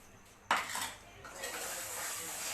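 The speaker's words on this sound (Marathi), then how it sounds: "आणि ह्याला घासून घ्यायचं आहे पूर्ण तेलकट डाग वगैरे सगळं निघून जातं" Greasy kadhai scrubbed with rangoli powder and Nirma detergent: a sharp metallic clatter starts the scraping, followed by steady close gritty rubbing against the pan with no voices.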